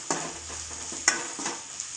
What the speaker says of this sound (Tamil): எல்லாத்தையும் நல்லா இப்போ வதக்கி விட்டோன்னா அப்புறமா தக்காளி போட்டுக்கலாம்.